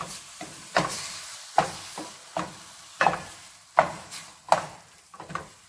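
Ground beef fries in oil in a pan while being stirred and broken apart, a soft steady sizzle punctuated by about eight sharp scraping strokes of the utensil at a loose rhythm, close and fairly quiet, with no talk.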